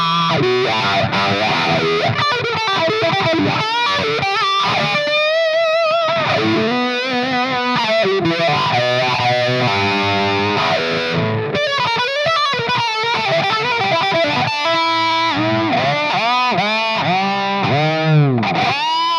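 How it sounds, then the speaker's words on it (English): A Dunlop Cry Baby Custom Badass Dual-Inductor wah on a high-gain guitar, set dark with the Halo inductor and tone rolled down, sweeps through distorted chords and lead lines, the filter rising and falling in loud vocal-like arcs. "take the Halo inductor and take the tone all the way down for a darker high gain wah sound"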